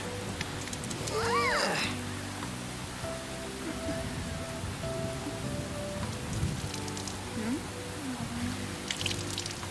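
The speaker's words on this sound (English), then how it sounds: "Ruined by the rain." Steady rain in the video game Persona 5 Royal, a continuous broadband hiss with soft patter running through the whole stretch, joined by background game music and a brief vocal-like sound near the start.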